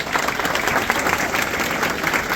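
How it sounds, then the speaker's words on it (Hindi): An audience claps for a teacher at a class gathering in India, a dense, steady wash of hand claps sustained throughout, fairly close and loud, with no clear speech over it. "सबसे पहले एक बार अपने सर के लिए ताली बजाइए"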